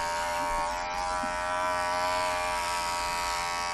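Steady, loud, continuous buzz of a worn electric razor running close by without pause, its motor droning evenly throughout with no talk over it.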